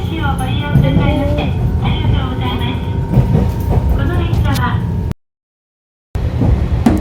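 Steady rumble and clatter of a moving train carriage in Kumamoto, Japan, with children and adults chatting and calling out over it throughout.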